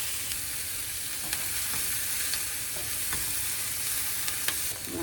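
Jalapeno and vegetables fry in a pan with a constant bright sizzle, while a few light stirring scrapes and taps come at irregular intervals, close and fairly quiet.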